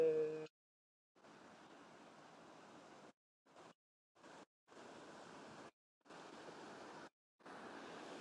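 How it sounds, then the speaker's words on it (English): Rushing waterfall water roars in broad steady bursts beside a canal, broken by abrupt gaps of silence between stretches of continuous noise. "Let's just enjoy the sound of running water"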